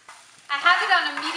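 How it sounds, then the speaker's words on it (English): Chopped onions and freshly minced garlic go into hot oil in a pan on medium-low heat: a brief quiet lead-in, then a loud, close burst of sizzling that holds steady. "When the oil is hot enough, we can start adding in the onions that we chopped, along with all the fresh"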